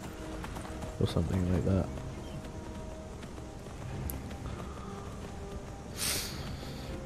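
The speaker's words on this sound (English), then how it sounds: "I think I can ride the horse up there." Horse hooves clip-clopping in the Skyrim Anniversary Edition video game, a quick burst of galloping steps mixed with game sounds while a person talks over most of it.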